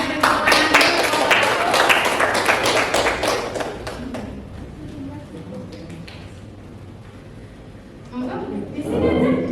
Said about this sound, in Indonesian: Ayo beri tepuk tangan dulu